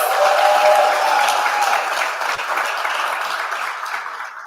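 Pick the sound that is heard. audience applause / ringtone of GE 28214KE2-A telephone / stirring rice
audience applause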